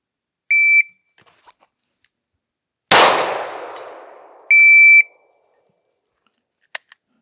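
Two short, sharp electronic shot-timer beeps, separated by a loud metallic clang that rings and fades, then a couple of faint clicks.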